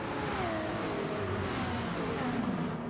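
Race cars in a racing video game, a Porsche among them, accelerate hard off the line, their engines roaring steadily and loudly together with rising pitch throughout.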